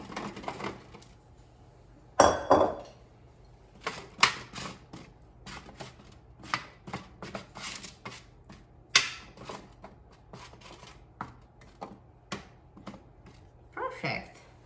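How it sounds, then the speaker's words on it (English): Raw parsnip pieces set down one by one on a metal baking sheet, giving a run of light clicks and taps with a couple of louder clatters, close and alone against a quiet kitchen background. "So just put them on a baking sheet in a single layer."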